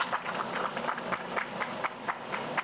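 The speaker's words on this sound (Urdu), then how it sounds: "تو تالیوں سے اس کا جواب دیتے رہیے گا" An audience claps at a dairy industry event in a hall, with steady applause and distinct claps repeating throughout.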